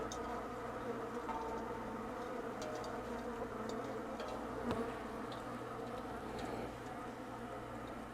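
A large colony of bees buzzes at a hive exposed beneath a house floor, a dense continuous drone that stays close and steady, with a few scattered higher buzzes of individual bees passing near.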